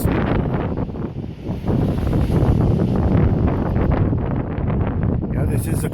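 Strong wind on the open Colorado plains buffets the microphone in a constant, loud roar with gusty rumble and rustle, steady throughout with no pauses.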